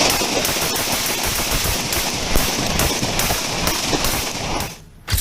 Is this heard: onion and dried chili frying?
no